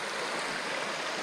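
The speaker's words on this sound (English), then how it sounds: "we tend to find these campsites on the creeks. That's glacier water right there." A cold creek of glacier water flows at a campsite with a steady, close, full rushing sound and no breaks, with no voices.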